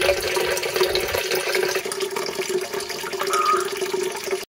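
Water pours steadily into a tank for a snakehead fish during rain, a loud, continuous splashing and gurgling rush that stops abruptly at the end.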